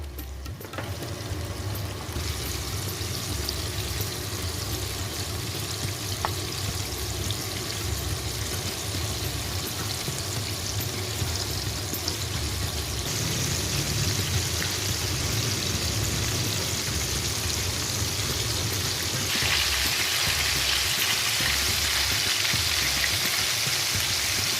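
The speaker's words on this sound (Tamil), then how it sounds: "நல்லா கிறிஸ்பியாக ஃப்ரை பண்ணி வந்துருச்சு" Korean fried chicken drumsticks deep-fry in hot oil, giving a dense, continuous rain-like hiss and crackle that stays loud and close throughout, growing brighter and fuller partway through and again near the end.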